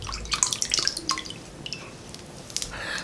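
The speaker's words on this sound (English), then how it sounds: "I guess I'm just gonna splash this on my face" Water splashed from a bowl onto a face makes wet drips, squishy splashes and trickles in a small indoor space, bursts clustered near the start and end with a quieter stretch between.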